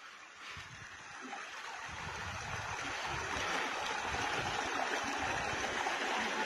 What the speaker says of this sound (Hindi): खूबसूरत झरने यहाँ बह रहे हैं।